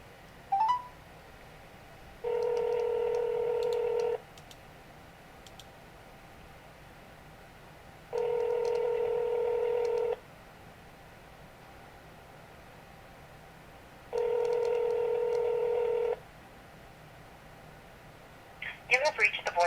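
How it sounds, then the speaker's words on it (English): A phone places a call, with three long, steady ring tones repeating at even intervals over a faint hiss, then a short burst of electronic noise at the end. "calling Janet L. Mohr, Executive Director of the Board of School Administrators"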